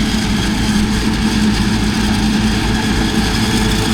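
Farm vehicle engine running steadily and loud while chopping a corn field, a continuous low rumble with constant drone throughout, no talk.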